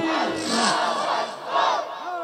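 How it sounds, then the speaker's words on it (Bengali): A large crowd at a religious waz gathering in Dhaka chants the Takbir slogan together, loud and close, in two rhythmic surges of massed voices. "সবাই মিলে একই তালে দাও না স্লোগান, নারায়ে তাকবীর।"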